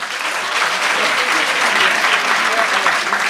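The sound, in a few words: audience applause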